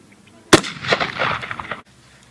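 One loud, close gunshot from an 1866 Winchester rifle during a test fire, a sharp crack followed by over a second of rolling echo that cuts off abruptly.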